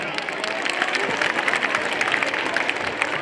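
An audience claps to welcome performers at a stage program, a dense, steady patter of many hands with crowd murmur and voices mixed in.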